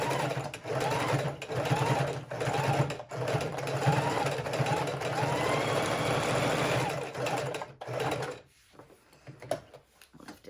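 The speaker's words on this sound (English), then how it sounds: "we're going to put it back into the sewing machine." A sewing machine stitches a fabric book cover in quick mechanical bursts, its rapid whirring broken by short pauses, then stopping near the end with a few handling clicks.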